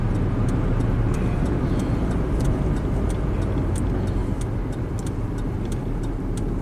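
A Saturn car cruising at steady speed, heard from inside the cabin as a constant low road and engine rumble with faint higher whine, continuous and unbroken, no talking.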